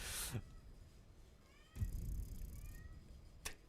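A cat meows a few times, short faint calls spaced apart, with a soft jingling and quiet room noise between them.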